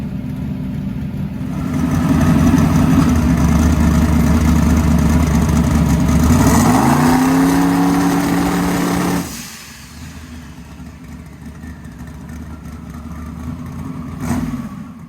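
A carbureted 421 small-block engine with flat-top pistons runs loud and close, swelling into a sustained rev, then dropping sharply to a lower idle with a short blip near the end.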